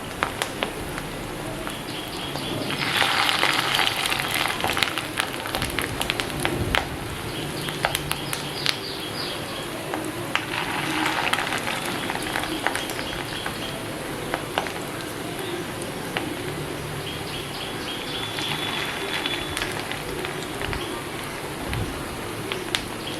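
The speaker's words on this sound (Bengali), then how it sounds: "মাছের ডিমগুলো ভেজে নেব।" Fish roe frying in mustard oil in a pan, a steady dense crackling sizzle that runs unbroken throughout with a few sharper pops, with no voices.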